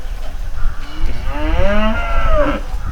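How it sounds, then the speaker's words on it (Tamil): Ongole cow close by, letting out a loud, drawn-out moo that rises and falls in pitch over a noisy farmyard background. "இப்போ நீங்கள் ரெண்டாவது பார்க்குற இந்த மாடு"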